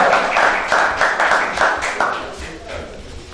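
An audience at a Punjabi poetry mushaira in Mandi Bahauddin claps to welcome the poet, a dense, steady wave of applause that gradually fades, with a voice speaking through it.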